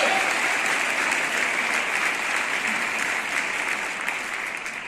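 Sustained applause from a gathered audience, steady and dense for the whole stretch, greeting news of a wedding set for 10 February.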